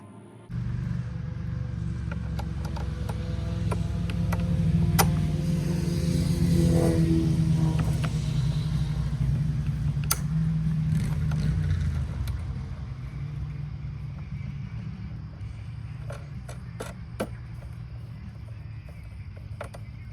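A Troy-Bilt 163cc self-propelled push mower engine starts after a brief pause and runs steadily for about twenty seconds at moderate volume, with a few scattered sharp clicks over the drone.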